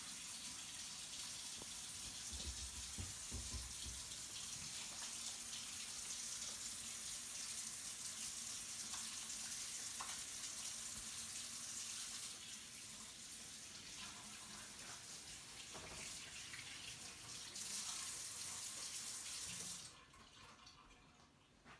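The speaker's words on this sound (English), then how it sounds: "You're going to re-wash your hands. Another 30 seconds." Tap water runs steadily from a faucet into a sink while hands are washed, a continuous broadband gush heard close and alone for about twenty seconds before it cuts off.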